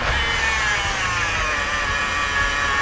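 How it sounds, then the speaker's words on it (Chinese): A 16-year-old BMW X5 seven-seater with a noticeable shake sits idling, its engine running loud and steady with a continuous mechanical hum that holds level throughout, close by and with no voices. "就是怠速的时候，引擎的声音比较大"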